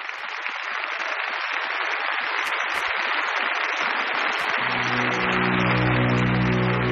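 Long, unbroken applause for Stalin, a dense steady wash of clapping that keeps going at even loudness, with a low droning tone joining underneath toward the end.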